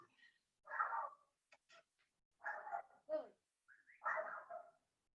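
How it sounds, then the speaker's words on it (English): A pet dog vocalizes in a home office during an online talk, giving three separate bursts of short whining barks, fairly close and clear, with brief quiet gaps between them. "And that's my dog, Lily."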